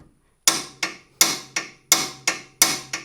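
Hammer taps on a seized stud in a car suspension, a Mercedes SLK32 R170 or Chrysler Crossfire SRT-6: six sharp metallic strikes in an uneven rhythm, close and fairly loud, each ringing briefly.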